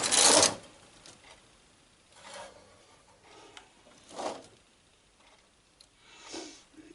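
A knitting machine carriage slides across a row during zigzag short-row knitting, with weights hung on the work. Several separate rasping, whirring passes come up close, with quiet pauses between them.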